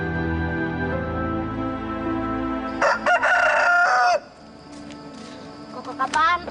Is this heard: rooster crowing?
yes